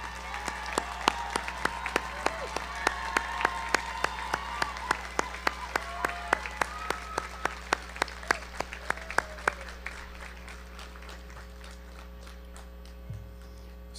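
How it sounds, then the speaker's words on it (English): Audience at a Woodbury University commencement ceremony applauding the faculty, a sharp, distinct run of claps over a constant electrical hum that thins out and fades toward the end. "Let's applaud in appreciation for their dedication to the academic mission of"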